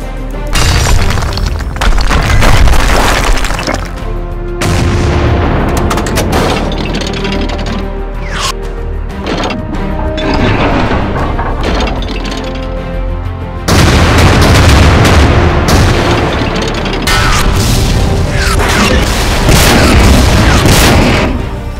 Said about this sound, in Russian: Эти выстрелы бесполезны.